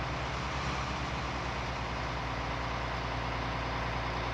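Tractor engine labouring under load in the Farming Simulator 19 video game, a steady low droning rumble at constant volume throughout, with no talk over it.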